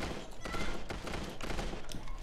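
Sustained automatic gunfire in the shooter game Creative Destruction, a dense, continuous burst of rapid shots loud and close throughout, with no pauses.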